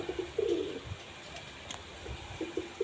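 A kal sakha pigeon gives a few low, soft coos, in a short burst at the start and again near the end, over faint background hiss.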